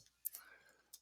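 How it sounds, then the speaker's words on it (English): A few faint, sharp clicks of calculator buttons, spaced apart, with soft whispery breath between them in a quiet room. "That's the sound of me clicking on a calculator in the background."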